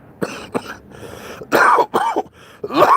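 Several harsh coughs and throat-clearing bursts, close and loud, in irregular fits with short pauses between.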